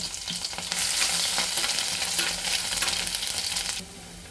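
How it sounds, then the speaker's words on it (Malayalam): Crushed garlic sizzling and frying in hot oil in a clay pot, a steady close crackle with stirring scrapes, loud for several seconds and then dropping away near the end. "ഇപ്പം ഞാനിവിടെ 1 സ്പൂൺ വെളുത്തുള്ളി ചതച്ചുകൂടെ ചേർത്ത് കൊടുക്കുന്നുണ്ട്."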